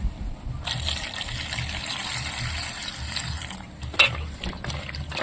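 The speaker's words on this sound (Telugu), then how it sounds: "దీంట్లో కొన్ని నీళ్ళు పోసుకొని పచ్చిమిరకాయలు అయితే కడుక్కుందాము" Water is poured into a vessel and green chillies are washed in it, giving a steady close splashing and gushing with a brief louder slosh near the end and no voices.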